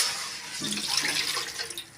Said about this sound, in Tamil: பாத்திரம் ஹீட் பண்ணியாச்சுங்க. தண்ணி சேர்த்துக்கலாம்.